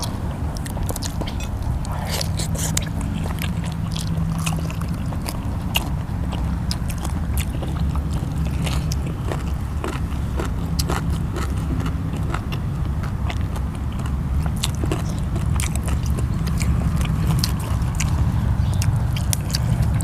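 Crunchy chewing of Thai som tam papaya salad with sausage, close-up bites and crisp crunches repeating steadily over a low, continuous background rumble; no talking.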